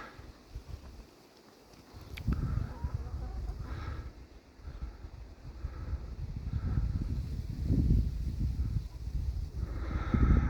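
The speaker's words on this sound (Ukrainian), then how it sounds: "але вітер поривчатий" Wind blows in uneven gusts, rumbling against the microphone and rising and falling in strength over a steady outdoor hiss.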